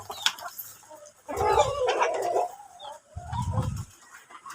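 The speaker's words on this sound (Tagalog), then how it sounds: "ang mga dambuhalang mga manok kumakain" Large backyard chickens feeding, with soft clucks and scratching interrupted by two bursts of busier pecking and rustling close by; no talking.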